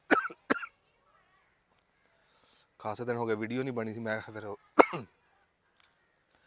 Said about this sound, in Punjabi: ਖੰਘ ਜੀ ਹੋਈ ਹੈ ਮੈਨੂੰ ਬਹੁਤ